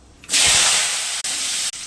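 Mustard seeds hit hot oil for tempering and burst into a loud, bright sizzle that holds steady with two brief dips, starting abruptly after a quiet moment.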